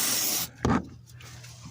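3M headliner adhesive sprayed from an aerosol can for a Ford Taurus headliner repair, a loud close hiss lasting about half a second followed by quieter handling noises.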